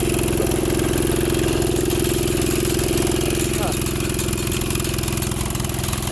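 A mini go-kart's small engine runs steadily on sand, a loud, close, continuous droning hum that never lets up, while voices speak over it.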